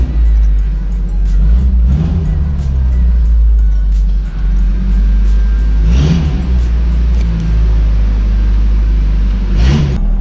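Steady engine rumble of a pickup truck driving, continuous and close, with a few brief rises in pitch as it accelerates or shifts; no talking.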